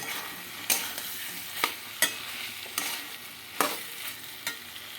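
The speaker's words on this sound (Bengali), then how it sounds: "এবার ভেজে রাখা আলু আর সয়াবিনটার মধ্যে দিয়ে দেবো দিয়ে ভালো করে নাড়িয়ে নেবো" Fried potatoes and soybean chunks are stirred into masala in a pan, a quiet steady sizzle punctuated by six or seven distinct spatula scrapes and knocks at an uneven, unhurried pace, close up and without speech.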